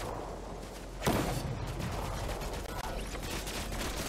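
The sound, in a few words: gunfire from fighting in the video game Fortnite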